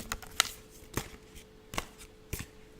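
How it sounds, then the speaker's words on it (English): Tarot cards being shuffled by hand, heard as a few separate soft riffling bursts spaced about half a second apart, each quick and papery, with quiet room tone between and no talking. "They're still sticky, these cards. I've got to shuffle them a little more."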